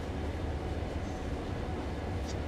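A passing EMD F7 diesel locomotive on the Clinchfield Railroad route in Train Sim, a steady low rumble of engine and rolling wheels holding at an even loudness throughout.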